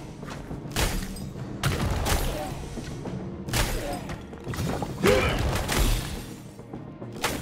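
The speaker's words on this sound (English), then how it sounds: "can hear deafening cannon fire coming from the bulwark's core." Booming cannon blasts in the action game Torchlight Infinite, four or five heavy crashing volleys at roughly one-to-two-second intervals, loud and close over a rumbling game soundscape.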